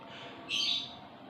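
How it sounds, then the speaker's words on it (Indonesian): A female lovebird gives one brief high chirp that stands out over quiet background hiss. "burung itu menurut saya dia birahi tinggi, tapi malah dia gacor"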